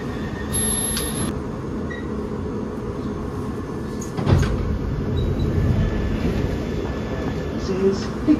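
A London Underground Piccadilly line train in motion, a steady low rumble of wheels and carriage with a brief high whine near the start and a louder clatter midway, heard from inside the car.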